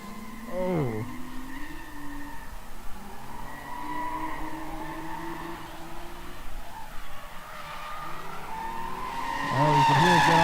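A drift car on a street-series course slides with a broad engine roar and tire noise, its pitch sweeping and then easing as the driver comes off throttle; at the end a second engine surges louder and closer with rising revs.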